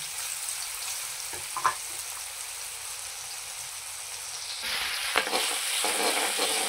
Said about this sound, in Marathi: कांदा चांगला गुलाबी होईपर्यंत परतून घ्यायचा.